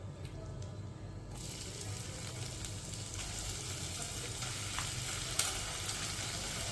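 Onions frying with cumin in a pan over a low gas flame for pav bhaji. A steady close sizzle jumps louder about a second in as the onions hit the hot oil, then continues with light stirring scrapes.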